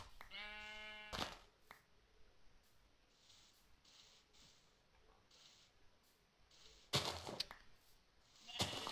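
Single bleat from a dyed sheep in Minecraft near the start, a short wavering cry, followed by quiet ambience with a few soft clicks and thuds.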